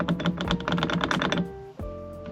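A loose quick-release hub on the steering wheel of a 2.5 NC Mazda Miata rattles and clunks in a rapid run of sharp, close knocks for about a second and a half, then stops.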